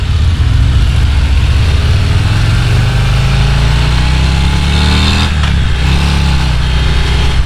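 A 2023 Harley-Davidson CVO Road Glide Limited 120th Anniversary edition pulls away in first gear, its loud, close engine note climbing steadily in pitch as it accelerates, with steady wind and road noise and no talking.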